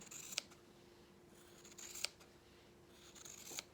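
Scissors snip through fabric while cutting for an invisible hem, three sharp separate cuts spaced over a few seconds against a quiet steady hum.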